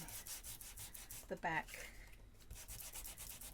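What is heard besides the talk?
sanding a playing card with sanding disc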